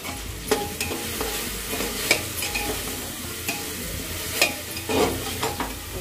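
Spiced masala for an aloo parwal sabzi, with red chilli added, fried and stirred in a pan: steady close sizzling broken by repeated sharp scrapes and clinks of the spoon against the pan.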